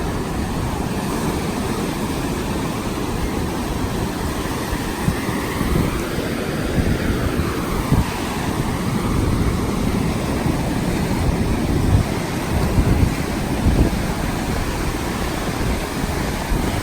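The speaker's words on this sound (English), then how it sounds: "Just gonna let some sounds of the water play as I walk out." Pacific Ocean waves washing onto a beach in Mexico, a continuous loud roar of surf with swelling breakers and some wind rumble, no voices.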